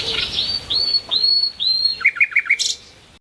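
A nightingale in the Doñana forest of Spain sings a string of bright whistled notes, sweeping phrases and then a quick rapid run of chirps, close and clear over a faint hiss of background.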